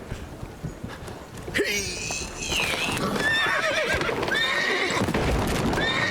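Horses neigh and whinny over clip-clopping hooves in the video game The Witcher 3, with a busy, layered soundscape and voices mixed in underneath.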